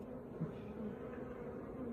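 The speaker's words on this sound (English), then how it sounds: "they've got all these bees next door who are obviously now quite keen to get in here" Honey bees buzz around the entrance of a poly nuc hive holding a small rescued swarm in an apiary, a steady, soft droning swarm with individual bees passing close.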